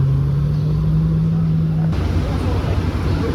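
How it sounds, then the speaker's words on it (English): A Ferrari F12 at a cars-and-coffee meet in Dubai, its exhaust a loud, steady rumble with a droning tone that cuts out partway through while the roar carries on. "No, it says 720, but the exhausts. Sounds amazing, the F12."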